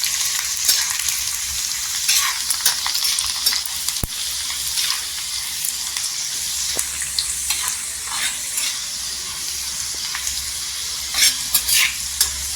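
Garlic and green chilies frying in hot oil in a pan for a garlic-chili fry, with a steady close sizzle broken by repeated scraping stirs of a spoon against the pan; no one speaks.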